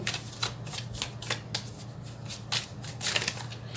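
Tarot cards are shuffled in quick repeated riffles, a crisp papery flutter close by with no talking.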